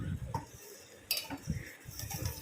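A utensil stirs and scrapes a mixture in a pan, soft repeated clinks and scrapes close by in a home kitchen, with a voice talking over it.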